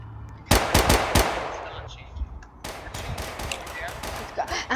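Rapid bursts of Tec-9 gunfire in the Roblox video game, several quick strings of shots loud and close, with game sounds and talk mixed underneath.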